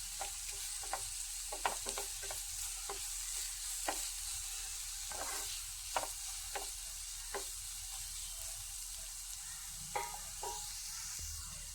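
Vegetables with pepper and garam masala sauté in a pan, a soft sizzle under repeated scraping and stirring clicks of a spoon, quiet and close throughout.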